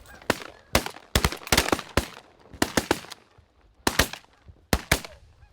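Sharp shotgun blasts from goose hunters crack out in irregular bursts, singles and quick pairs, loud and close in an open Michigan cornfield, with faint goose honking between shots.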